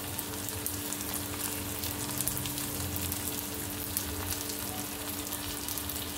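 Turmeric, chili, cumin and coriander powders sizzle and fry in a pan for egg bhuna curry, a dense, steady crackling hiss that holds evenly throughout.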